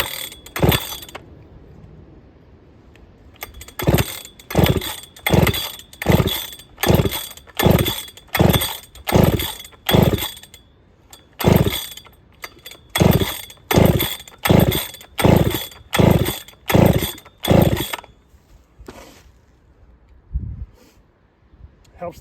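A Holtzfforma 3120 chainsaw with a cut-out muffler revs hard in a steady series of loud, evenly spaced bursts, close to the mic, then drops to a rough idle near the end.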